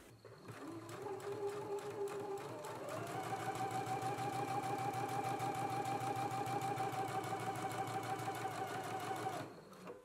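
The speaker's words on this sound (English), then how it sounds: "And now we can stitch right here along our first stitch." A sewing machine runs steadily for about nine seconds, stitching fabric along a first seam while sewing a Simplicity S9326 pattern, its motor whirring evenly and close up, rising slightly in pace after a brief start, then stopping.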